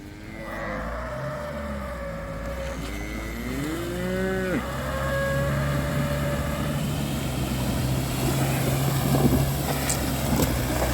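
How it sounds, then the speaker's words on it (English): Several cows moo one after another near a river, long drawn-out lows over a steady outdoor rumble of wind and a distant engine. "A few cows down here, but let's go."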